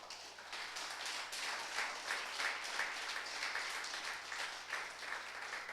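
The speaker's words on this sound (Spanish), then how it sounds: "Yo estaría dándole un fuerte aplauso al Señor." A church congregation breaks into applause during a sermon, many people clapping together in a full, sustained roar that stays loud and even, with no speech over it.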